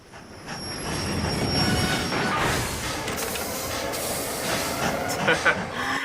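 Train wheels squeal in an animated pony cartoon as a train rolls along rails. A rising metallic screech and hiss mix with rumbling wagon noise, and there is some background voice activity.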